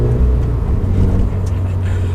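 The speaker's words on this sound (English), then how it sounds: "There goes Brian in the 2020 Toyota Supra" A 2020 Toyota Supra driving past on an open road, heard from inside another moving car as a loud, steady low engine and road drone with no talking.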